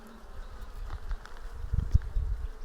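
Honeybees buzz around a weak, small hive in an apiary, a faint continuous hum with a few louder passes of individual bees near the end.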